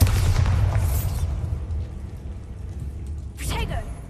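A Bombarda blasting spell in Hogwarts Legacy goes off as a heavy low boom at the start, then a rumbling fade and a second crackling burst near the end.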